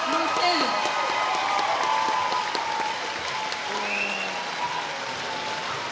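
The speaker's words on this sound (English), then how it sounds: "maybe one last round of applause for all our fantastic students." Sustained audience applause for the students after a school production of High School Musical, a dense wash of clapping filling the hall throughout, with faint voices and cheers mixed in.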